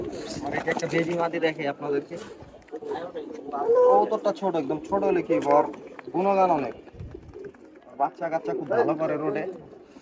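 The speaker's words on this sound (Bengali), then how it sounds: "মাশাল্লাহ অনেক সুন্দর সুন্দর কবুতর এখানে" Pigeons coo repeatedly in the background while people talk loudly over them for most of the stretch.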